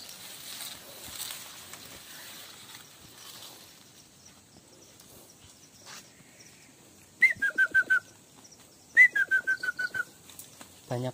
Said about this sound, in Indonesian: Banyak burung di sini